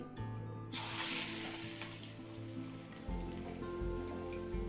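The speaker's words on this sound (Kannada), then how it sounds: "ಕರಿಬೇವನ್ನು ತಗೊಳ್ತಿದ್ದೇನೆ ಫಸ್ಟಿಗೆ ಇದನ್ನು ಫ್ರೈ ಮಾಡಿ ಮತ್ತೆ ಸೇವಿಗೆ ಮಾಡುವ ಮಿಕ್ಸರಿಗೆ ಎಣ್ಣೆಗೆ ಕಾದಿದೆ" Curry leaves spit and crackle in hot oil heating for a spicy Karnataka-style snack mixture, a steady close sizzle with sharp pops and a low kitchen hum, no voices.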